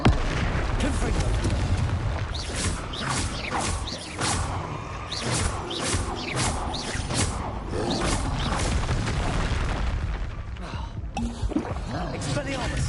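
Spell combat in Hogwarts Legacy, with blasting Confringo explosions, disarming and fire spells cast in quick succession: a steady run of sharp bursts, whooshes and impacts over dense game noise.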